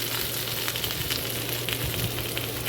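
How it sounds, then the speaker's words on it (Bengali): Potatoes fry in a pan with a steady, dense sizzle, close and even throughout with no pauses. "তারপরে আলুগুলো একটু ফ্রাই করে নেব"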